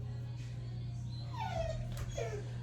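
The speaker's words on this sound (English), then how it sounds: "Excuse my dog, guys. You literally, the whole time probably are listening to him cry." A dog whimpers and whines in high, rising cries over a steady low electrical hum, fairly faint and close by.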